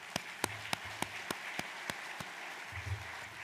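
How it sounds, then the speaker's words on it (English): Sparse, faint applause from an audience at an annual meeting, a handful of sharp individual claps spaced out over a few seconds, with a low hum behind them. "a round of applause to NRCS"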